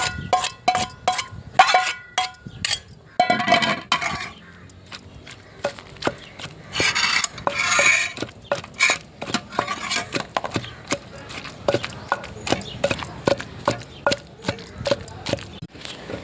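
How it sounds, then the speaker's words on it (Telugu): Green chillies, nalleru stems and fried tomato pieces pounded in a mortar, giving sharp repeated thuds and knocks in an uneven steady rhythm, close and loud, with occasional clinks. "తర్వాత మనం ఫ్రై చేసుకున్న టమాటా ముక్కలు కూడా వేసుకొని దంచుకుందాం"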